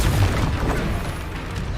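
A Bombarda spell detonates in the Hogwarts Legacy video game, a deep, heavy boom with a dense low rumble that stays loud and rolling across the whole moment, with no talk.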